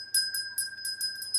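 A bell rung by hand in an agency office to celebrate a sale: a rapid series of about six bright strikes over a sustained ringing tone, close and clear with no talking.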